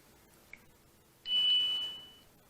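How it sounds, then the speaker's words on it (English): Small chime alert from an X Sense home security door sensor: a clear, fairly loud bright tone rings out on its own, sustaining for about a second before fading, preceded by a faint tick. "Small chime."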